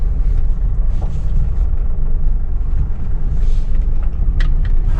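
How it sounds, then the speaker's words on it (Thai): Used single-owner Ford car on a test drive, heard from inside as a loud, steady low engine and road rumble with faint rattles and clicks, no one talking. "ลองขับดูนะครับ ตาเร่งเป็นยังไงบ้าง"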